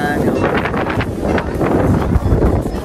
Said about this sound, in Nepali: हावा आइरहेको हुन्छ